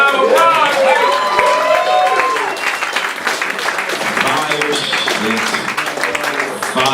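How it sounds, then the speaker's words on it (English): A roast battle audience bursts into loud, dense applause mixed with crowd noise and a few whoops, with voices audible underneath throughout. "Give a round of applause."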